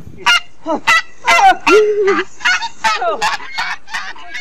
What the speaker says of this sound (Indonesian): Ternyata ini angsa.